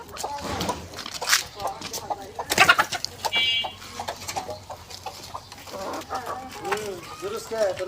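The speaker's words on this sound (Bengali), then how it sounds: "আমি এগুলি ফার্মি মুরগি পালি, সাথে দেশি মুরগি আছে কয়েকটা।" Farm-bred and a few local chickens clucking on a village farm, intermittent nearby clucks and squawks scattered through, with talk over the birds.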